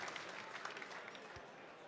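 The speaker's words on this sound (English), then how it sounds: "They're a happy crowd, aren't they, here at Lakeside?" A darts crowd at Lakeside claps steadily at the World Championship, a dense patter of applause that carries on without a break across the short moment.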